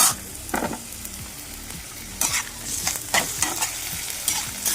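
Chicken sizzles loudly in an iron kadai, a constant close crackle of hot oil with bursts of scraping and stirring from a spatula against the metal. Nobody speaks.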